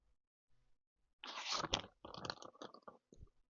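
Sticky, chewy candy is chewed close to the mic in bursts of wet, smacking mastication with brief pauses, with nothing else heard.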